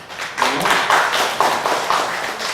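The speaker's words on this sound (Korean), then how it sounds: "박수 한번 하겠습니다" A church congregation claps together during a Sunday service in a steady, rhythmic beat, with each burst of hand claps landing about twice a second. The sound is close and fairly loud.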